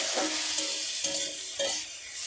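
Two chopped tomatoes stirred and fried in a pan for pasta, producing a close sizzle with three distinct rhythmic stirring strokes, no speech.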